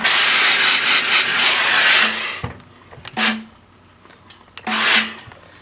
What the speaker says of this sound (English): And then I'm going to take the steamer and I'm just going to press this flat.